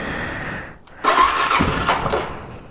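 A carbureted Suzuki DRZ400SM motorcycle engine with the choke on cranks briefly, then catches and fires up into a rough, loud idle close by.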